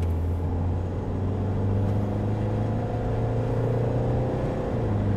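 Mahindra XUV500 automatic accelerating hard, a steady close engine drone and road rumble building evenly without a clear break for a gear change, no talk.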